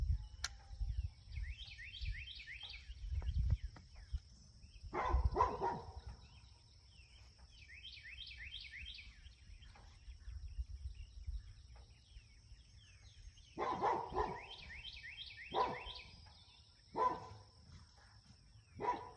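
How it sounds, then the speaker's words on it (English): Dogs bark in the background near a pasture pond, sounding as intermittent distant yaps in several short clusters over quiet outdoor ambience, with no talking. "those dogs are barking in the background"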